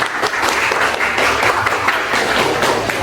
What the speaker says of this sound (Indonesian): terima kasih aplaus untuk teman-temannya